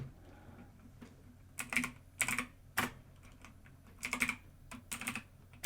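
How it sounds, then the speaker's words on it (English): A computer keyboard clicks in short bursts as a 12-word wallet backup phrase is typed, with quick clusters of keystrokes separated by pauses in an otherwise quiet room. "I'm going to type these words in"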